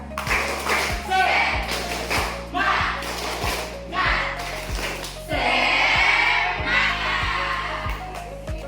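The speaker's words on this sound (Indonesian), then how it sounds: "Semuanya bisa tepuk semangat?" A class of students performs a rhythmic spirit clap in unison, loud patterned bursts of clapping repeating in sequence with short pauses, over a steady electronic tone and some voices.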